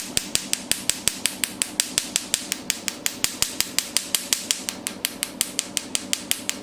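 An ND:YAG laser tattoo removal machine fires rapid, evenly spaced sharp snapping pulses, about five per second, repeating steadily and close by with a faint hum underneath.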